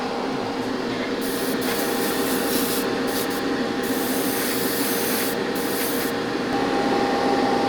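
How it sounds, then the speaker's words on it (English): A steady hissing airbrush sprays paint onto a model figure continuously, with a few brief breaks in the hiss, close up and fairly loud. "Here's the airbrush. Oh, let's try it."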